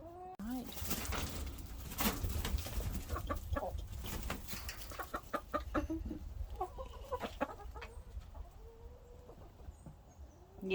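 A rooster clucks and murmurs close by among new hens after being rehomed, short scattered clucks over a low rumbling background, with people talking softly at times.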